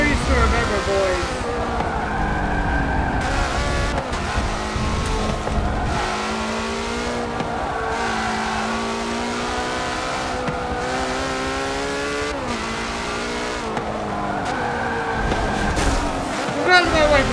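Race car engines in a racing game hold a constant loud whine, rising through gears with repeated upshifts and revving, while a voice talks over them.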